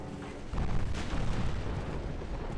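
Heavy 8-inch naval guns fire in a battleship battle in Ultimate Admiral Dreadnoughts, giving two deep, booming blasts about half a second apart, each rolling into a loud rumble.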